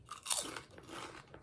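Someone bites and chews Walkers salt and vinegar crisps, a few sharp, close crunches followed by quieter crackling chews, faint overall.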